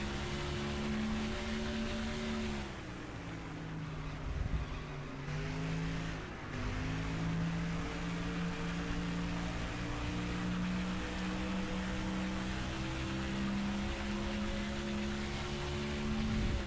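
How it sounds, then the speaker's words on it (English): A race car engine in NASCAR Thunder 2004 at Darlington makes a continuous, buzzing high-revving drone, with pitch dips and climbs through corners and shifts. It runs alone with no talking. "Car drives really good."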